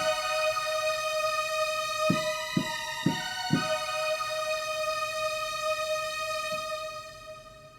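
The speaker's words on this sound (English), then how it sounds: "There's a little bit of a super saw wave in there" A bright, sustained synth lead built on a super saw wave plays on keyboard for a worship chorus, with a buzzy harmonic tone, a few quick stabbed notes partway through, then a long held note fading out, no voices.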